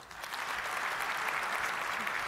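Conference audience breaking into loud, dense applause at a business talk, a sustained burst of many hands clapping at once with no voices over it.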